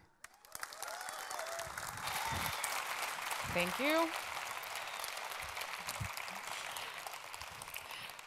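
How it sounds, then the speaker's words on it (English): Large audience applause at a campus party main-stage event welcomes a speaker, a steady broad wash of clapping that fills most of the stretch, with a brief spoken thanks near the end. "please join me in welcoming, with your biggest campus party round of applause"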